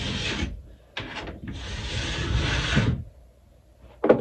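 A sharpening stone scrapes in long rough strokes along a rusty ski edge, with bursts of gritty rubbing separated by brief pauses, close and fairly loud with no talking.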